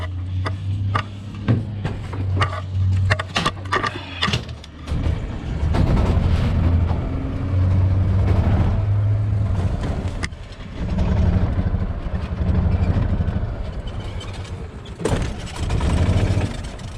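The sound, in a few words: Ezgo golf cart starting and being moved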